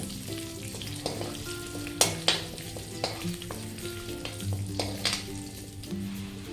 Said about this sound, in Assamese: ইলাচি, লং, ডালচেনি যে লৈছিলোঁ সেইখিনি দি দিম আৰু লগতে এই গোটা জিৰাখিনিও দি দিম।